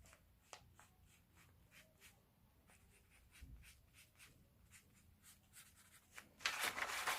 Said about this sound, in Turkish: Şöyle bir balon çizeceğiz.